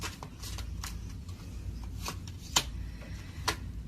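Tarot cards being shuffled in a quiet room: soft riffling brushes with a few sharper snaps of cards striking together, close and fairly faint over a low background hum, with no talking.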